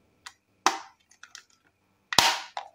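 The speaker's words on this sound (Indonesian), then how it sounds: "pemasangan baterai pencabutannya pun masih ngeklik cabutnya itu susah banget" Sharp, separate plastic clicks and snaps as a battery is pulled out of a Godox LED170 II LED light, a few quiet ones between two louder cracks, close up with silence in between.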